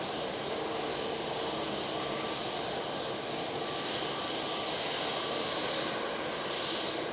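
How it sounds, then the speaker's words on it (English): An Airbus A321neo jet rotates on takeoff at Manchester Airport, its engines giving a loud, sustained roar with a hissing high whine that holds steady and rises slightly near the end. "Let's get that beautiful 321neo rotating."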